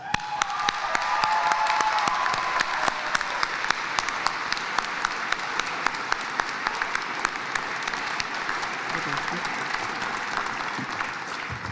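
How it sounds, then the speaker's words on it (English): A large graduation convocation audience at Simon Fraser University applauds and cheers steadily, dense clapping with whoops rising early and then holding loud and even for the whole stretch. "There's a bit of a competition for all of these convocations to who can cheer the loudest"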